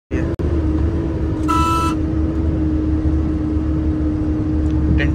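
A Tata 2830 tipper truck with an AC cabin idles with a steady low diesel drone, broken by a short horn toot partway through and a brief clunk near the start.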